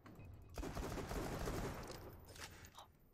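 A Jakobs shotgun pistol in Borderlands 2 fires in a rapid burst of quick, heavy shots, fairly quiet overall, with the volley easing off toward the end.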